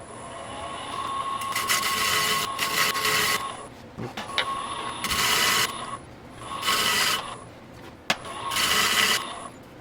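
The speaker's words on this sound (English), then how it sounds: "use my lathe and I'm going to just shave it down until that's gone" A lathe shaving down a wooden part in a home shop, with repeated bursts of rasping, scraping cutting noise over a steady motor hum, pausing between passes and separated by a couple of sharp knocks.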